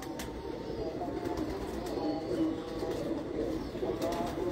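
Pigeons in a loft coo continuously at close range, a dense layered murmur of overlapping low calls that swells and settles without pause.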